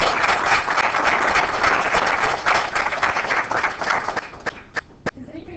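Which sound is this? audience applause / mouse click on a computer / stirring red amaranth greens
audience applause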